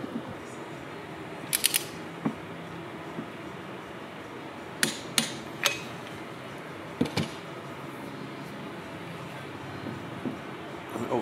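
A torque wrench clicks sharply several times, close and irregularly spaced, as connecting rods are tightened on a 1936 Ford flathead V8 crankshaft, over a faint steady background hum.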